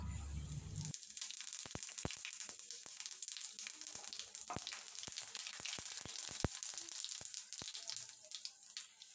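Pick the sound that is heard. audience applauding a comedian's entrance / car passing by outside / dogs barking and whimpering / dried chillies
dried chillies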